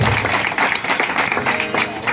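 A crowd applauding at a traditional Marathi devotional bhajan performance, dense sustained clapping filling the space at close range.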